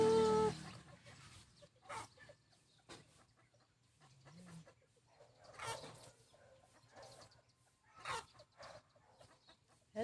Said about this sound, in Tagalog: mga alaga naming manok